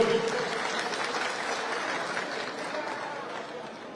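Applause from a crowd at a Punjab Congress political rally welcomes Partap Singh Bajwa. The clapping is dense and continuous throughout, easing off slightly toward the end.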